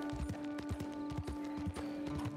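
A horse's hooves clip-clopping in the video game Red Dead Redemption 2, a quick steady rhythm of close, crisp hoofbeats over a faint tonal game score, with no talking.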